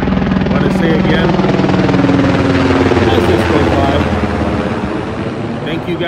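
A military aircraft flies low over Joint Base Lewis-McChord in Washington, producing a loud, steady, rumbling roar with a chopping, rotor-like texture that fills the whole stretch and eases slightly toward the end.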